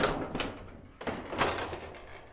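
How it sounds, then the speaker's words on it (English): Metal door of an Absco garden shed being handled and flipped over during assembly, giving a few hollow sheet-metal clatters and rattles close by, with no talking. "turn the door upside down,"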